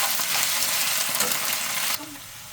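Ginger garlic paste fries for Kolkata-style mutton biryani, a loud, dense sizzle close by that keeps up while it is stirred, then drops abruptly to a quieter crackle near the end.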